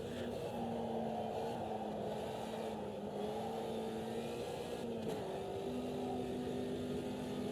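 A classic front-wheel-drive VW in Automobilista 2, engine holding a steady strained note with slight pitch shifts as wheels spin under throttle, continuous and moderately loud.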